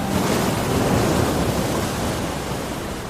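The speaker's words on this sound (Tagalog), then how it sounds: "biglang may malakas na alon ang humampas sa dalampasigan" Strong waves crashing on the shore, a loud, continuous broadband roar of surf that fades slightly toward the end, with no voices.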